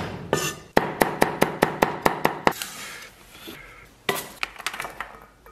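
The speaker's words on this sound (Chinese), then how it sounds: "然后把蒜 切成末" Garlic being minced with a kitchen knife for a spicy Sichuan beef dish: a run of about eleven sharp, evenly paced chops on a board, a scraping pause, then a few more quicker knocks, close and alone.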